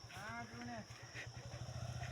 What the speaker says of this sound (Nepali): बाइक चाहिँ आइरहेको छ है त